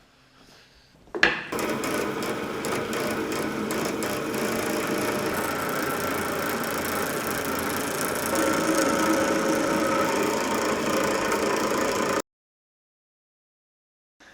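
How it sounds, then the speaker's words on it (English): A bandsaw cuts through a chunk of beeswax in a workshop: the motor starts with a thump, then a steady, loud whining grind with a rasping edge runs for about eleven seconds before cutting off abruptly. "I'll do it on the bandsaw"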